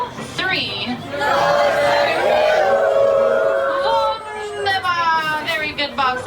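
Riders on the Matterhorn Bobsleds ride at Disneyland shout a long, loud group yodel together, a crowd of mixed voices including children sustaining the call for several seconds and then trailing off into scattered cheering.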